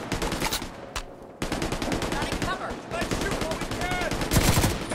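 Light machine gun firing in the video game The Division 2, long loud bursts of rapid automatic shots with a short pause near the start, then continuous fire, with a voice talking over it.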